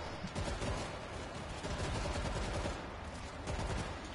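Continuous rapid assault rifle gunfire in the zombie shooter World War Z, a dense, loud stream of shots filling the whole stretch without pause.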